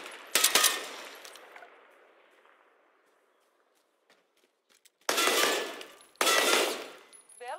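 A video game weapon fires in sharp bursts: a quick volley at the start, then quiet with a few faint clicks, followed by two more loud, sustained bursts of gunfire near the end.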